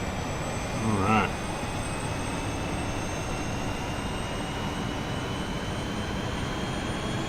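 Steady broadband roar of an A320 jet engine spooling up in Microsoft Flight Simulator, a continuous even drone with faint high tonal whine, with brief talk near the start.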